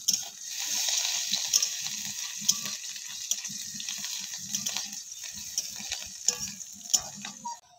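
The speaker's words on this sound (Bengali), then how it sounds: "ফোড়নটা আমার ভাজা হয়ে গেছে" Whole spices for a tempering fry in a pan with grated ginger and chopped green chili. A soft, steady sizzle plays under gentle stirring and scraping, fairly quiet and close, with no voices.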